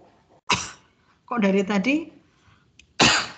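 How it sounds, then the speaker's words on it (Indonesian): Two sharp coughs, one near the start and one at the end, bracket a short stretch of speech; someone talks between them. "batuk melulu ya. Kenapa ini?"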